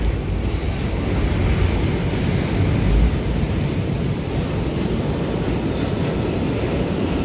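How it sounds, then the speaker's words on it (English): A New York City subway R179 A train between Inwood-207 St and 125 St rumbles steadily along the rails with a dense low roar, faint metallic squeals and clatter as it brakes through a curve. "we're going through a curve right now, so the train has to brake"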